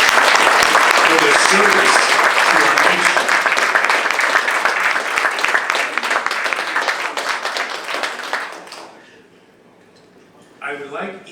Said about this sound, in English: Let's please have another round of applause